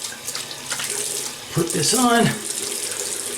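Water runs from a tap for a brief moment, likely while wetting a Pearl K2 dual-handle razor, rising then stopping, with someone talking close by.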